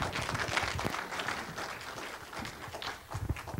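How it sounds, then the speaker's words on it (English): An audience in a church sanctuary applauds, a dense patter of many hands clapping at moderate distance, fairly soft and steady for a few seconds without talk over it. "Let's give Greg a big round of applause"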